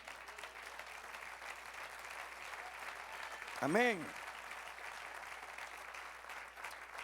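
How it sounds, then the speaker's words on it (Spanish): A congregation applauds during a Spanish-language church sermon, a steady, sustained wash of clapping that fills the whole stretch, with a voice briefly speaking over it. "Sí, dale aplauso al Señor."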